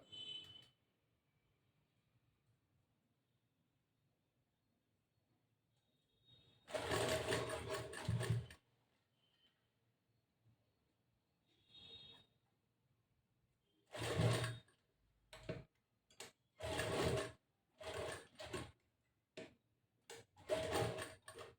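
A sewing machine stitches small gathered frills onto a blouse in short separate runs of whirring, with brief stops between bursts and quiet gaps, close and fairly loud.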